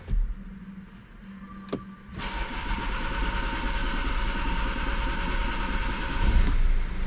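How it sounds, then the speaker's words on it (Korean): A BMW 520d diesel engine fresh from a fuel filter replacement turns over and catches, then settles into a steady, rough diesel idle heard close up for several seconds, with no talking. "스타트를 누르게 되면 아마 시동이 바로 안 걸릴 거예요"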